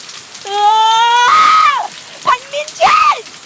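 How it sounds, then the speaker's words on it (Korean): A woman left standing in cold rain lets out a loud, piercing, drawn-out scream. Two shorter anguished cries follow, with no clear rain sound beneath them. "차가운 빗속 덩그러니 남겨진 여름은 찢어질 듯한 비명을 토해냅니다."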